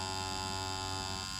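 Powder brow tattoo machine running with the needle going too deep into the skin, a steady harsh electric buzz with a strong hum, continuous and close.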